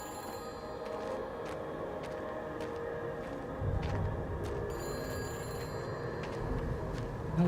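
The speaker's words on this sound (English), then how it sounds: "Oh, I can hear a phone." A telephone rings somewhere in the deserted valley of the game Everybody's Gone to the Rapture, a faint, steady ring heard at a distance beneath a constant bed of ambient noise and occasional soft clicks.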